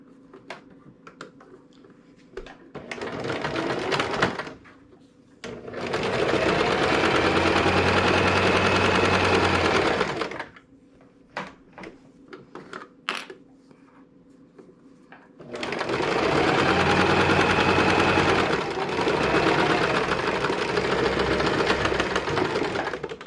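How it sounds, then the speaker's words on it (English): A sewing machine top-stitches the folded top edge of an apron pocket in two long, steady runs of fast, close whirring, separated by quieter clicks and fabric handling. "We want to sew on this top fold very close to this bottom edge, just a top stitch to secure the top of our pocket down."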